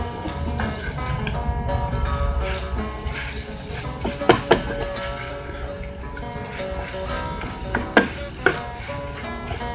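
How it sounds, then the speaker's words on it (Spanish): Soup noodles frying in hot oil in a pan, a steady sizzle with clattering utensil stirs and a few sharp knocks, no talking. "para que se frían, porque lo importante de los huevos con sopita es que las sopitas estén muy fritas"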